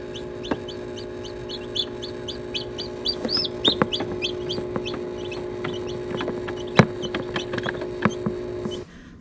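Chickens on a homestead clucking close by, a busy run of short overlapping clucks and chirps over a constant low hum, with occasional louder squawks standing out.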